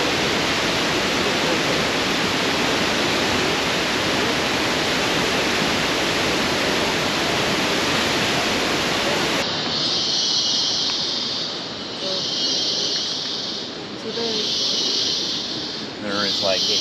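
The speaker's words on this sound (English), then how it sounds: "it is a waterfall and it was so powerful" A loud, constant roar of a powerful waterfall near La Fortuna, Costa Rica fills the scene, shifting partway into a harsher, more hissing rumble with quieter pulses.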